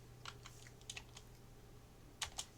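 Keys are tapped on a computer keyboard during drafting work, with a few scattered single keystrokes followed by two sharper, louder presses near the end over a faint steady hum.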